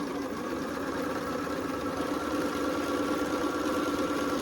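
A sewing machine stitches a quilt in a steady, continuous whir, its motor hum even and moderately quiet throughout with no pauses.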